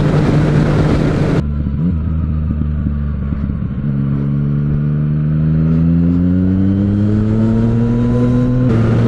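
Yamaha MT-09 motorcycle engine, loud and close, idling with a rough rumble and then revving, its pitch rising steadily and holding before easing slightly near the end; no talk.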